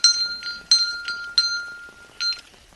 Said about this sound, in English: They have steel springs and brass bells with cast iron clappers, which would ring loudly whenever the shop door was opened and closed.